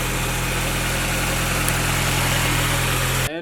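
A K-swapped Honda Integra project car idles steadily with a constant low, even hum and a faint vibration. It runs alone without talk and cuts off abruptly at the very end.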